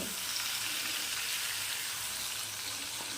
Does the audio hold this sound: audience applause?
no